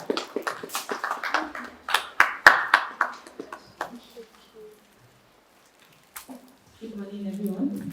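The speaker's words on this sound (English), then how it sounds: "A round of applause" Scattered clapping from a business summit audience in Lagos, a quick burst of separate claps that thins out and stops, followed by a pause before a voice begins speaking.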